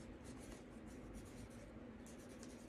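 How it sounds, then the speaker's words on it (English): Pen writing a favorite movie title on a paper petition for a self-love affirmation jar, a quiet continuous scratching and rubbing of strokes, close and soft, with no talking. "I'm going to write my favorite movie"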